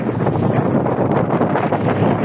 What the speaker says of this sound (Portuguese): Muito vento, galerinha. Muito vento mesmo.